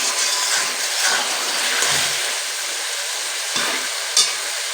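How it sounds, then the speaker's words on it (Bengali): Onions fry for a mutton curry, giving a steady, close sizzle with a few scraping stirs of the spatula against the pan. "এবার একটু হালকা হালকা করে ভেজে নেব, তারপরে মশলা দেবো।"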